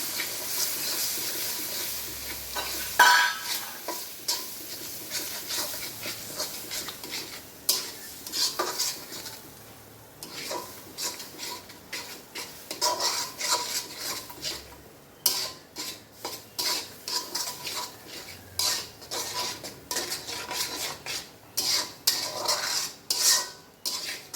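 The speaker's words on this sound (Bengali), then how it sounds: "এই যে দুইটা ডিম দিলাম।" Two eggs frying in a pan with fried onions for homemade fried rice, stirred with a utensil in frequent sharp scraping clacks against the pan over a soft steady sizzle, no talk.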